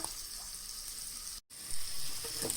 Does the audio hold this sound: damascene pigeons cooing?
no